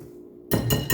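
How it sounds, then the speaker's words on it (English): A whisk rattling through dry bread dough ingredients for Japanese milk bread in a bowl: after a short quiet moment come three quick, close clinking strokes against the bowl. "I'm just going to whisk all the dry ingredients together."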